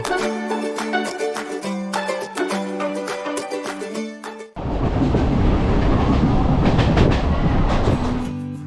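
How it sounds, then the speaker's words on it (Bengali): A local passenger train from Howrah to Memari rumbles loudly and continuously on the rails, close by, with a rattling clatter; melodic music plays before it. "আজ হাওড়া থেকে উঠে পড়েছি সকাল আটটা পঁয়ত্রিশ মিনিটের গ্যালোপিন মেমারি লোকালে"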